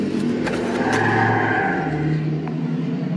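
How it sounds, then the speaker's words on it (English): A Powerstroke diesel truck roars loudly down the street nearby, a steady heavy engine drone with a rising strained whine. "Power stroke just screaming down the street."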